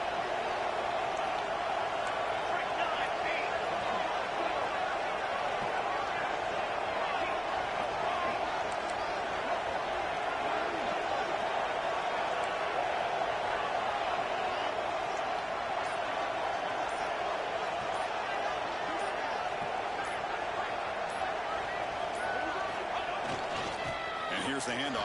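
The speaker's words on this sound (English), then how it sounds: "Crowd really getting into it here in the final minute." Stadium crowd at a UGA vs Texas football game in the final minute, roaring steadily and loudly throughout as a dense wash of cheering with no clear breaks.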